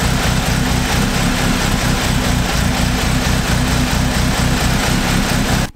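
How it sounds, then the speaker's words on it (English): A wrecked and rebuilt Audi S3 idles with a misfire, a loud close engine rumble with a steady, slightly uneven low pulsing throughout and no talk. "the misfire began again"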